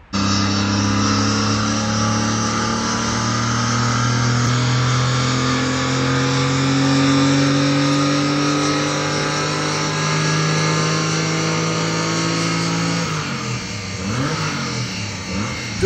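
A Porsche 993 engine on a dynamometer revs hard and steadily climbs in pitch for a long stretch, loud and close, then drops back and winds down.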